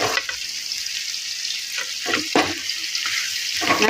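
Pepper chicken sizzling in a pan over low heat, a steady close crackle of frying with occasional stirring scrapes and louder spits.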